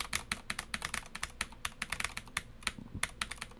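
Rapid, uneven keystrokes clatter on a ThinkPad laptop keyboard, crisp and close, in irregular bursts with short pauses between them. No voices are heard.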